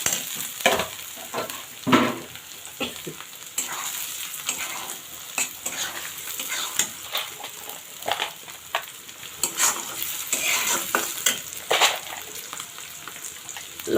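Whole spices such as white cardamom and cinnamon fry in hot oil for a fried beef brain dish, a soft continuous sizzle broken by frequent scraping stirs and light clacks of a utensil against the pan, close and fairly quiet.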